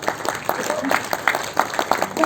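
An audience claps at the opening of a Hindi comedy stage play, with scattered individual hand claps standing out over a steady wash of applause while a voice talks over it.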